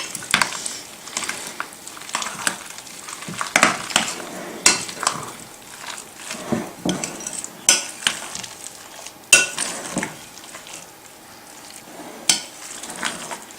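Crab dip ingredients being mixed together by hand in a bowl, with repeated soft squelching and scraping strokes in an uneven rhythm, close and fairly loud, with no talking.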